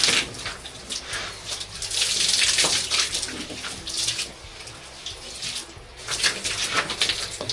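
Water splashes and pours continuously while a dog is bathed, a close, hissing wash that surges and eases in uneven bursts over several seconds.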